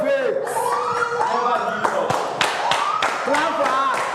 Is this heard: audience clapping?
yes